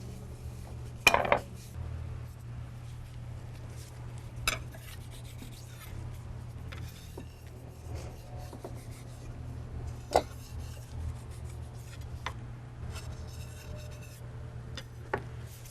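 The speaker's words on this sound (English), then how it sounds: "we're going to roll this dough into a rectangle" A rolling pin works biscuit dough into a rectangle on a counter, a soft steady rubbing and rasping with occasional light taps and clicks, quiet and close throughout.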